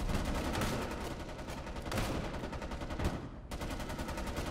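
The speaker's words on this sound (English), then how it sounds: "Shooting me through a brick wall." Dense, loud rapid gunfire from the video game Homefront The Revolution: sustained automatic bursts that blend into a continuous barrage, with a brief break before the shooting resumes.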